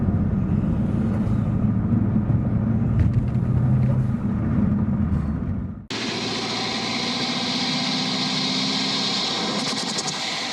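A loud engine rumbles steadily up close, then the sound abruptly shifts to a harsher, brighter roar that keeps going at a constant level.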